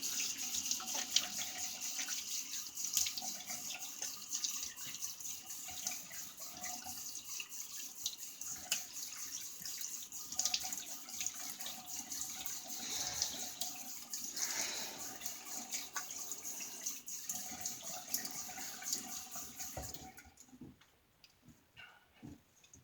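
Tap water runs steadily into a sink for rinsing after a shave, a continuous hissing splash with small clinks and drips, stopping abruptly near the end.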